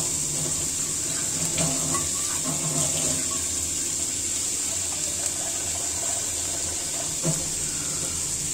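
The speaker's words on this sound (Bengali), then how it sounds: "আমি এখন এতে পানি দিয়ে দিব।" Water pours into a frying pan of fried lentils and spices as a continuous splashing, running-water wash at moderate loudness, with no voices.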